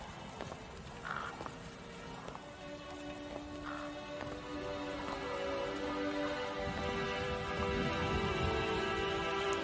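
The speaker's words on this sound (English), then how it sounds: "That rain looks really good." Steady rain patters in a horror game demo built in Dreams, a dense, constant hiss that slowly swells louder, with faint tonal game sounds drifting underneath.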